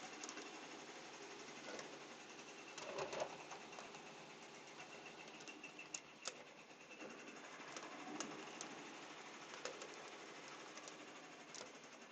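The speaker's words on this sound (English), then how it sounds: "Oh, it's still stitching." A sewing machine stitches a beanie with a continuous, fairly quiet mechanical whir and rapid needle chatter, running steadily without pause and without voices.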